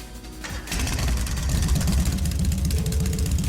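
A motorbike engine in a video game starts up after a brief whir, then settles into a loud, steady, rumbling idle with a pulsing beat.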